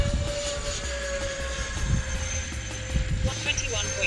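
Discontinued jet aircraft with an electric power system, flown through a flat spin: a steady, loud whining engine drone with rumbling wind, and voices faintly underneath.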